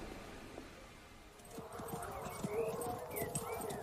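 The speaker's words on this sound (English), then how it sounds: "Mrs. Beaton and I have teamed up with Trollope at the local hunt. I love riding horses." Horse hooves clip-clop at a steady walking rhythm during a local hunt, fairly close and moderately loud, with a whinny-like call and light background noise.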